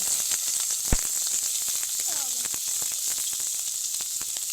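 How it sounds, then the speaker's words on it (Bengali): Chopped onion frying in a pan, a loud steady sizzle with a constant bright hiss and scattered small pops and crackles, one sharp knock near the start, no talk. "পেঁয়াজটা হালকা ভাজা ভাজা হলে পরে টমেটো আর কাঁচা লঙ্কা দেবো"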